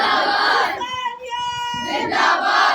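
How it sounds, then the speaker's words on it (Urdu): A crowd chants slogans together at a Shia religious gathering, a Muharram majlis in Ancholi, with loud massed voices that dip briefly to a sustained, tonal shout in the middle before the full roar returns. "صاحب خانہ نعرے لگا رہے ہیں."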